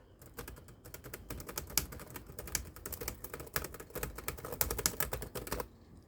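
Typing on the keyboard of an HP Laptop 15 dy2021nr: a quick, continuous run of close, crisp key clicks with uneven rhythm, heard alone, then stopping near the end.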